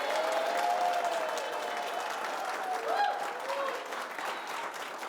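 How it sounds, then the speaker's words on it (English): A studio audience applauding vigorously, a dense and steady wash of clapping that holds throughout, with a few voices calling out over it. "I want all of you to applaud vigorously on 3"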